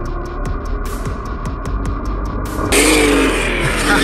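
A Traxxas Undertaker RC mega truck with opened diffs revs hard, its electric motor whining loudly in repeated bursts as the wheels spin, then a louder rougher surge near the end.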